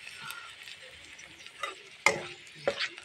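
Bay leaf and dried red chilies fry in oil, a gentle sizzle broken by a few sharp scraping clatters of stirring in the pan.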